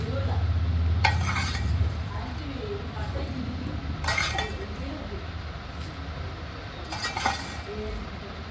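Fried chenangi leaves are scraped from a pan onto a plate, with a soft sizzle at first, then a few spaced clinks and scrapes of a utensil on metal under a voice talking.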